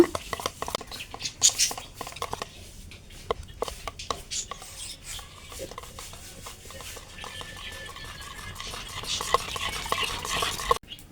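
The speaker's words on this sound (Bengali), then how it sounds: "এইরকম করে 2 থেকে 3 মিনিট ফেটিয়ে নেব।" Palm fruit batter for tel pitha being whisked by hand in a bowl, rapid irregular tapping and scraping strokes close by, quiet and building slightly louder toward the end.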